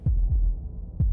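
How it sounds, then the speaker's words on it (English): Three low, soft heartbeat thuds pulse through a dark, quiet scene in the Slay the Princess video game, evenly spaced and close, with a faint hum between the beats. "That was the sound of a heartbeat, followed by another, and another."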